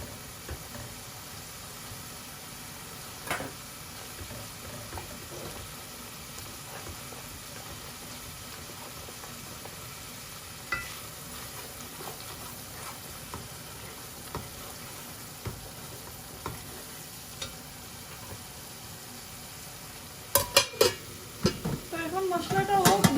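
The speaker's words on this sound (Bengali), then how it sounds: "মশলাটা হোক 2-3 মিনিট একটু কষাইলাই" Spice paste fries in a pan for a Bengali rohu fish curry, giving a steady faint sizzle throughout, with louder stirring scrapes and clinks near the end.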